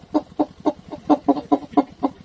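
A human voice imitates a hen calling a rooster, a rapid run of about nine sharp, evenly spaced clucks, loud and close with no other sound.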